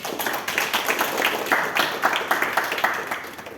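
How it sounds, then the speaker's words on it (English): Applause at a Toastmasters club meeting: a room of people clapping steadily and fairly close, a dense run of overlapping hand claps with no voices over it. "they deserve a huge round of applause"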